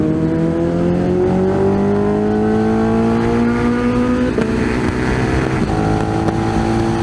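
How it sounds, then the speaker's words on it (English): A loud Kawasaki motorcycle engine, 200 wheel horsepower, drones steadily nearby on a Scottish road, pitch gliding as it changes speed, with another motorcycle engine's rising tone blending in; no one speaks. "That bike is loud as well."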